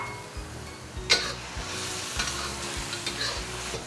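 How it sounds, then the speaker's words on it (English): Shrimp sizzles as it is stir-fried with soft Shanghai rice cakes and vegetables, with a steady close frying hiss and a few sharp spatula scrapes and clacks against the pan. "Here, I just want to stir fry until the shrimp is done."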